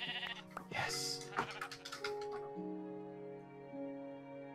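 Minecraft sheep let out a couple of close, wavering bleats in quick succession, followed by sustained game music tones ringing on as the bleating fades.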